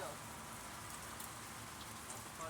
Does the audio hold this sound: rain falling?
yes